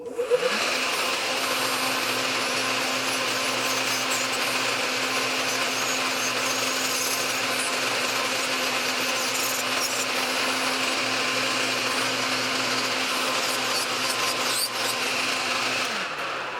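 YaFex electric nail drill at 35000 RPM spinning up into a steady, high, buzzing whine that holds for about fifteen seconds, close and loud, then winds down.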